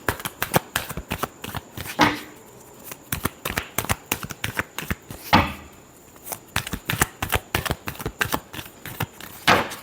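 Tarot cards being shuffled by hand during a reading: a continuous run of crisp, rapid riffling flutters and papery slaps, close and fairly loud, with brief pauses between bursts and no talk over them.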